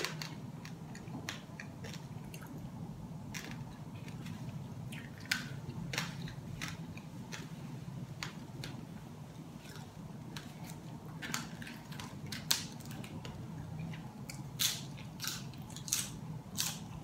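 Crisp, crunchy chewing of roast pork belly lechon close to the mic, repeated bites and crackles over a steady background hiss, no talking.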